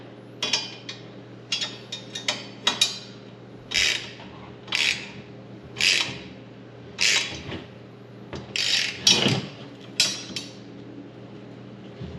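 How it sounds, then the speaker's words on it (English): A 13 mm wrench ratcheting as it tightens bolts on a flip-up seat base of a Polaris RZR KRX, a series of short, rhythmic rasping clicks repeated about a dozen times, close and fairly clear. "So you actually have an Allen that you can put in here along with a 13 millimeter wrench to tighten it."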